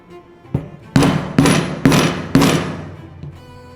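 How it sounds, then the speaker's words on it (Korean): A mallet striking a multi-prong chisel to punch stitching holes in leather, four sharp, loud, evenly spaced whacks after a lighter first tap, with a faint knock at the end. "해서 끝까지 구멍을 제가 뚫겠습니다."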